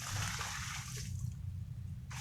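Water is poured in a circle around the base of an avocado tree, a steady, close splashing rush that tapers off at the end.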